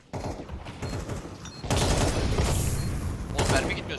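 Counter-Strike 2 gunfire crackles in rapid, dense bursts that turn into a loud, sustained barrage partway through. Excited players talk over the shooting.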